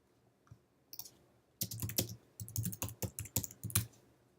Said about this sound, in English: Wow, pretty solid typing right there, Cody.